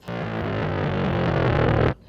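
A thick, buzzy synth bass plays a descending chromatic line for about two seconds, loud and distorted, then cuts off abruptly.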